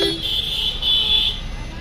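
A car horn blares in a sustained, fairly loud tone for over a second amid background street noise.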